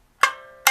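Two sharp plucked shamisen notes, struck with the bachi while the thumb touches the string, ring briefly with a bright, slightly muted click, clean and close with silence between.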